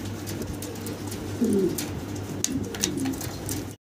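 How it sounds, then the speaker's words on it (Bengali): A male fancy Black Mundian pigeon coos in short rumbling bursts at close range, with soft repeated calls and light background noise. "দেখতে পাচ্ছেন হাড়িতে নর ডাকাডাকিতে ব্যস্ত আছে"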